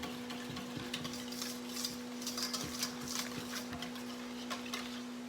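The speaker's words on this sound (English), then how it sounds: "I'm going to get this stirred up really well" A spoon stirs a lime Jello mixture in a bowl, quiet soft clinks and swishes ticking in an irregular rhythm under a steady low hum, with no talking.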